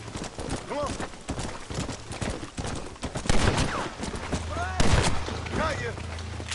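Scattered gunshots crack amid horse hooves clip-clopping and a whinny in Red Dead Redemption, with someone shouting over the mixed action at close range.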